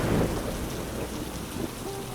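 Steady rain pours down with a low rumble of thunder beneath it, a dense continuous hiss that fills the whole stretch with no other sounds on top.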